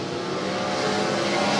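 USAC Silver Crown race cars roar past on the Du Quoin State Fairgrounds dirt mile, a loud, continuous wall of engine noise that builds steadily with no voices over it.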